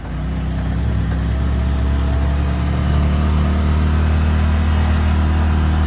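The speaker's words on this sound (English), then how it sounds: "It is still misfiring." A Polaris RZR Turbo S side-by-side engine idling with a misfire, a loud continuous mechanical drone with an uneven, stumbling pulse throughout, heard up close with no voices.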